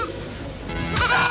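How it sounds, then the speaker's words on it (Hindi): Goat bleating heard from a nearby house in a domestic drama scene, a short wavering bleat rising near the end over a low, busy background. "अरे तो बकरी की आवाज है।"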